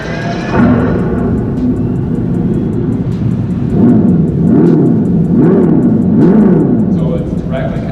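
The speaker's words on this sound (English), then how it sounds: "this thing is idling. So the car is on, and our exhaust down here is making all kinds of interesting burbles." A 2025 Dodge Charger Scat Pack electric muscle car idles close by with its exhaust sound, a steady low rumble broken by loud, wavering burbles that rise and fall in pitch.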